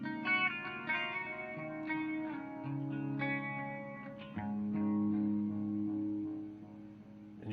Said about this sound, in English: See, there is an echo, but it's very subtle if you're picking slowly.